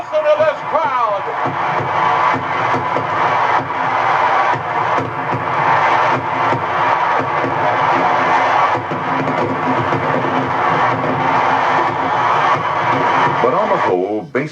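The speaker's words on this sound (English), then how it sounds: "listen to this crowd" A huge stadium crowd roars for Henry Aaron's record home run as he rounds the bases, with fireworks going off; the loud, dense cheering and babble hold steady for the whole stretch.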